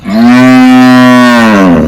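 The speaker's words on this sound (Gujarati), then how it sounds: "ગાય ગાય" A cow on a farm gives one long, loud, steady moo lasting nearly two seconds, close by, with no talk over it.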